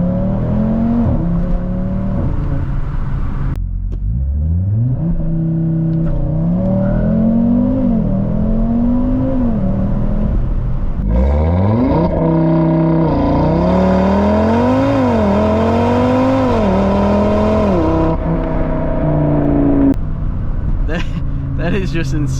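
A 2023 Audi RS3 engine accelerating hard through rising gear pulls, then blipping and burbling on downshifts, loud and close with strong sweeping harmonics, mostly alone with little or no talk over it.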